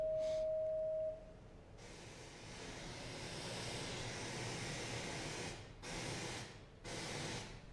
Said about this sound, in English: So there we can hear a tone coming out of the wedge.